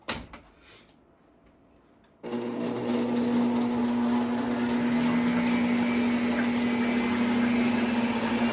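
Electric stand or hand mixer switched on to whisk angel food cake batter at high speed, a loud steady motor whir with a sustained hum that starts abruptly after a quiet moment and runs continuously.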